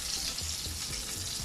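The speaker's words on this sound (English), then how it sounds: "We are frying." Fish fries in a pot with a dense, continuous sizzle and crackle of hot oil, steady and fairly close.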